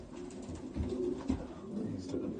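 Pigeons cooing inside a pigeon loft full of chicks, a soft continuous low murmur of several birds close by with no talk.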